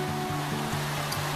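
Water flows steadily down Helton Creek, a mountain stream in North Carolina, making a constant broadband rush with no pauses and no voices.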